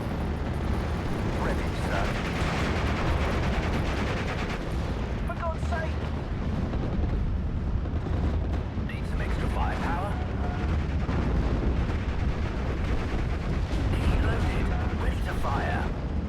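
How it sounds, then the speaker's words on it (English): Mortar rounds and artillery from Steel Division: Normandy 44 in a dense, continuous barrage of booming blasts and crackling fire, with someone talking over the battle. "We can drop some mortars onto those Durham Pioneers."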